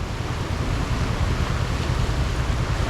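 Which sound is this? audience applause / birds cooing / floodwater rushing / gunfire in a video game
floodwater rushing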